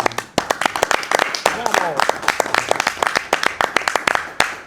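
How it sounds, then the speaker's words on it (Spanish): Applause bursts out in a Spanish-language program honoring the sports club C.D. Navelgas, with sharp, uneven claps close by, mixed with voices talking over them. "Eso merece un aplauso, hombre."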